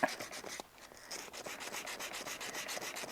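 Sandpaper of 240 grit rubbing back and forth over a 1911 pistol, backed by a flat oak block, giving a steady run of close, soft rasping strokes with a brief pause near the start.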